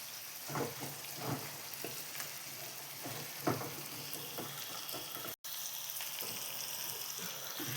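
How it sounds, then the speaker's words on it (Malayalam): Prawns frying in a pan with curry leaves as they are turned: a soft, steady sizzle with scattered clicks and spoon scrapes, plus a brief dropout near the end. "നമുക്കൊന്ന് തിരിച്ചിട്ട് കൊടുക്കാം കൊഞ്ച് നല്ലവണ്ണം മൂക്കാറായി"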